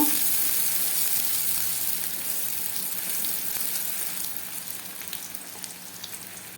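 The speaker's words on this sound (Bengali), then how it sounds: "এবার আমি কিছুটা পেঁয়াজ কুচি দিয়ে দিলাম এই পেঁয়াজটা আমি হালকা করে ভেজে নেব" Chopped onion frying in mustard oil, a steady hissing sizzle that slowly eases off as it goes, with no talking.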